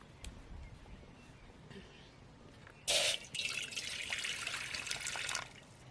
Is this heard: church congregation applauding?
no